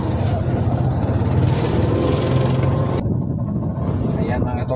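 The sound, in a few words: tuk-tuk engine driving in second gear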